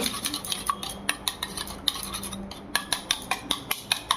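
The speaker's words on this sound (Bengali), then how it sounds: "ডিমগুলোকে ফাটিয়ে নেব, দিয়ে মাখাবো। একটু লবণ দেব, কর্নফ্লাওয়ার দেব, দিয়ে ভালো করে মাখিয়ে নেব।" Rapid rhythmic clinking of a utensil whisking beaten eggs with salt and cornflour in a bowl, close and steady with regular beats and no talking.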